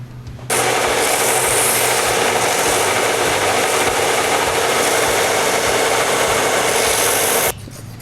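A guitar part is cut down to size during a fret buzz repair, giving a steady, loud, continuous rasping cut that runs for about seven seconds and then stops abruptly.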